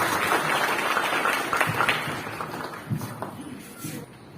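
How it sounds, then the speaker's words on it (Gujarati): Children clap together at a school's 15 August Independence Day celebration, a dense, steady patter of many hands that holds fairly loud before gradually thinning out, with a few sharper claps standing out. "બાળકો તાળીઓના ગડગડાટથી બજાવે છે."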